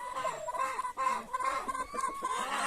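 Gris Sendry cross hens, a meat-and-egg breed, cluck nearby in a busy run of short repeated calls from several birds at once.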